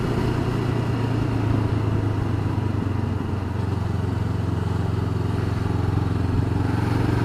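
A Honda CB500X motorcycle engine drones steadily while riding in fifth gear, a continuous close mid-pitched hum with road and wind noise holding even throughout.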